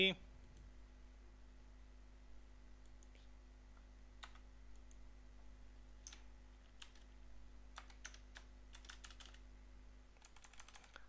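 Typing on a computer keyboard while working in Google Sheets, soft rapid key clicks in scattered bursts, some louder clusters near the end, over a steady low hum with no talking.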